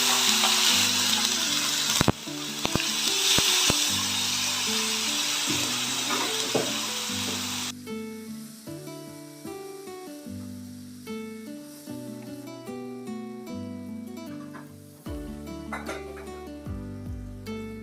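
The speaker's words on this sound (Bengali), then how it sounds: "এই যে পেঁয়াজ আর টমেটো বাটাটা রেখেছি, গ্যাসটা কমিয়ে এগুলো একে একে দিয়ে দেবো" Onion and tomato paste sizzling loudly as it drops into hot oil while cooking oily koi fish. The close, steady hiss lasts several seconds, then fades low under background music.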